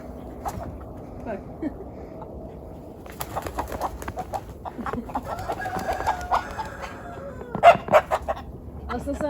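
Roosters and hens on a farm in snowy weather, clucking and crowing in bursts while a dog chases them around, with people talking nearby.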